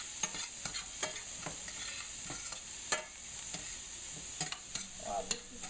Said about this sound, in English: And I'm going to saute this for a little bit